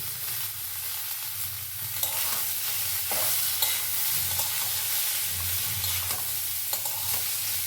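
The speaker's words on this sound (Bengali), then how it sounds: "এবারে আমি পেঁপেটা এর মধ্যে অ্যাড করে দিলাম, পেঁপে আলু একসাথে।" Papaya and potato fry together in a pan over a medium gas flame, giving a steady, close sizzle throughout with occasional scraping stir sounds and no talking.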